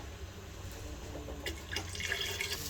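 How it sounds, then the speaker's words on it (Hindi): About half a jug of water is poured into a pot of beef nihari while it cooks. The pour starts faintly and builds into a steady, splashing trickle over a low background hum. "अब मैं इसमें तकरीबन आधा जग पानी शामिल कर रही हूँ"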